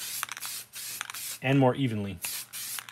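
Spray paint hissing from a can held farther back from a miniature diorama wall, in several short bursts between stretches of a person talking.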